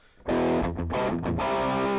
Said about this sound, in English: I also turned the distortion down a little bit, so it's at 3 o'clock right now